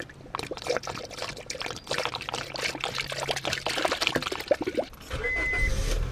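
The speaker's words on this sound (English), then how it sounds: "Now ready to put some aftermarket coolant." Aftermarket coolant poured into a 2004 Honda Civic's cooling system, a glugging, trickling stream of liquid running steadily for several seconds with small splashes, close to the mic.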